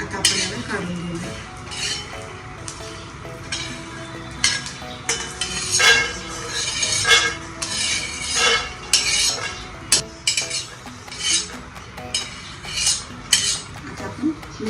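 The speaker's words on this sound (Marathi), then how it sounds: "शेंगदाणे मस्त खरपूस भाजले, आता आपण याला काढून घेऊया" Home-roasted peanuts for a fasting sabudana dish are scraped and scooped from a metal pan, a run of clattering, clinking strokes with short pauses between them.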